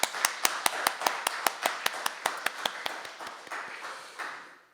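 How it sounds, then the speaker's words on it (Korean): Church congregation clapping in thanks at a dawn service, a run of sharp, evenly spaced claps in a steady rhythm that slows and fades into a softer spatter at the end, with no talking over it. "박수를 올리겠습니다."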